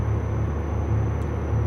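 A heavy truck engine in the American Truck Simulator game drones at about 1500 RPM, running at 70 and geared short, its steady low rumble echoing off nearby rocks, loud and continuous with no talk.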